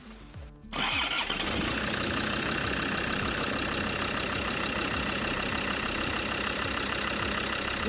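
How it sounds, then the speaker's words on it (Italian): A Land Rover engine fitted with the ACE system cranks and fires after a short quiet lead-in, then settles into a loud, steady idle close to the microphone for the rest of the clip. "un'accensione molto veloce per valutare se si è svuotata già troppo completamente la vaschetta"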